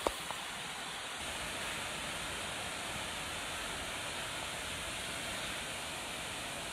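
Waterfall at Hsipaw heard from its base, a steady, even wash of rushing water that stays constant and fairly faint throughout, with no talking.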